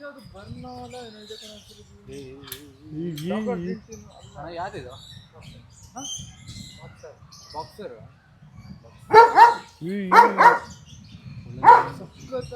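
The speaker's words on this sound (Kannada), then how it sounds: "ಮಾತ್ರ ನಾಯಿಗಳು ಎಲ್ಲ, ಡಾಗ್ಸ್ ಮಾತ್ರ" Dogs bark in loud clustered bursts near an aquarium in Mysuru, several sharp barks coming close together after stretches of people talking nearby.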